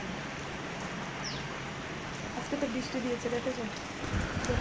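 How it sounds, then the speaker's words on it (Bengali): Heavy rain falls steadily outside a home kitchen, a dense continuous hiss that swells slightly louder toward the end, with faint voices underneath. "বাইরে ভালো বৃষ্টি হচ্ছে"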